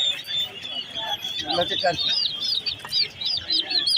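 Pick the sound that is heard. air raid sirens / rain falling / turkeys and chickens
turkeys and chickens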